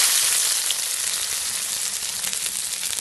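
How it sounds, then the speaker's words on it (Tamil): Five large onions, sliced and added to hot oil with popped mustard seeds, sizzle and fry steadily for a brinjal tomato gravy, a loud continuous hiss with faint crackles close by. "நான் ஒரு 5 பெரிய வெங்காயத்தை ஸ்லைஸாக கட் பண்ணிவிட்டு அதை சேர்த்துக்கிறேன்"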